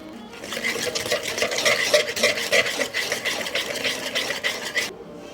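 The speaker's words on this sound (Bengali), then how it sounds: "এখন চিনিটা আমি ভালোভাবে মিশিয়ে নেব।" Sugar being stirred into pitha batter in a bowl, a continuous rhythmic scraping and swishing of the spoon, fairly close and steady until it stops abruptly near the end; no talking.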